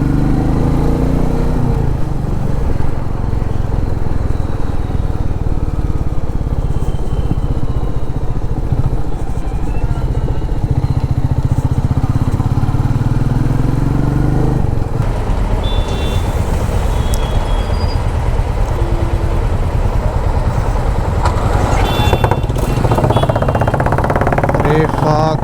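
A Royal Enfield Meteor 350 rides with its engine thrumming loudly and continuously under heavy wind rush. Melted shoe-sole rubber is stuck on the exhaust, and traffic passes by, with speech likely present.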